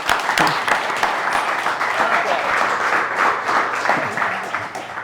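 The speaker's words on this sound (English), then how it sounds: "Give her a big round of applause, guys" Applause from an audience at a business event on AI, a dense steady wash of many hands clapping that carries through the whole stretch, with some voices mixed in.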